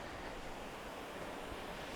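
Raging waterfall about 30 feet high, swollen after days of rain, heard as a dense, unbroken roar of rushing water, loud and close with no pauses.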